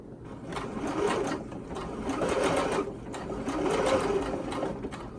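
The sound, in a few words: sewing machine stitching a knit neck binding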